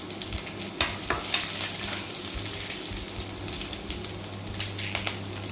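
Chana dal, urad dal and green chillies fry in hot oil, giving a steady low sizzle with occasional spoon scrapes and light clicks against the pan, close by and with no talk.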